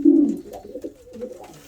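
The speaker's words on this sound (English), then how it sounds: "he is a big, powerful pigeon." A big, powerful male pigeon gives a deep, throaty coo up close, one swelling call that fades into softer rumbling murmurs with no other sounds.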